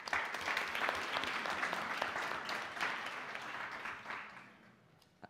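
Steady applause from a conference audience at an opening session, dense and even for several seconds before thinning out and fading near the end.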